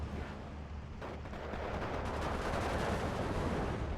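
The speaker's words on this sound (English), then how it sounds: "MG-42 is unloading. Doing its damage." An MG-42 machine gun fires in the Steel Division 2 battle game, a dense, continuous rattle of distant gunfire with rumbling battle noise, faint and without speech.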